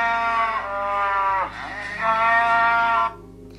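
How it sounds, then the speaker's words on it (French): A black-and-white calf gives a long, drawn-out moo, loud and close, rising and bending in pitch before stopping abruptly. "Vovo le veau meugle."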